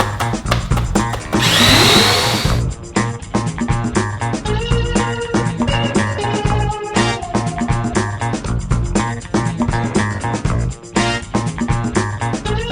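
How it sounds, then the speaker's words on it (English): Metabo long-neck drywall sander with a Velcro pad, running together with a 25-litre wet/dry vacuum it switches on: a loud steady whir and rumble with a brief hissing surge near the start, continuing close and alone. "when I turn the actual sander on, it should power the vac."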